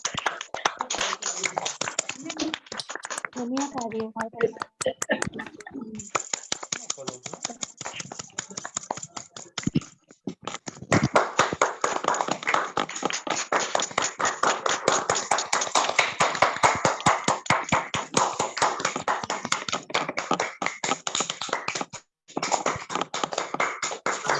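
Participants on an online call clap for themselves after unmuting at a women's day celebration, a busy, uneven patter of many hands through compressed audio, with a brief dropout midway and a short gap near the end.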